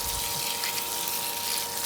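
Water pours steadily over mulch to soak the organic matter, a continuous close hiss and splash that stays even throughout with no talking.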